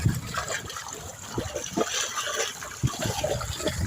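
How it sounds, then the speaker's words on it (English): Water splashing and gushing as a man washes river-extracted sand, a steady wet churning with irregular splashes and pours in the foreground. "So this guy is washing the sand."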